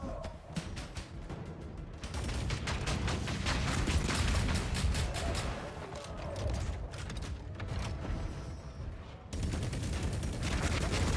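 Heavy weapons fire in the mech combat game Hawken Reborn hammers away in long, rapid automatic bursts with mechanical clanks, loud and close, briefly cutting out before resuming.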